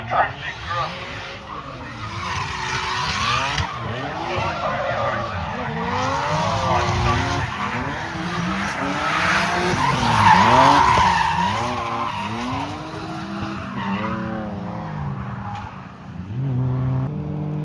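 Drifting cars at a Tunerfest North drift event squeal their tyres in long, wavering skids while engines rev and rise and fall, with an announcer's voice running over the action.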